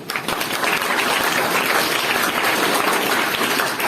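An audience claps together, a dense and loud burst of applause that holds steady for several seconds before starting to thin out.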